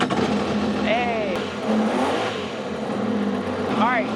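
A jet ski engine fires up and revs in steady bursts, with a person talking over it and a couple of whistling sweeps coming through the noise.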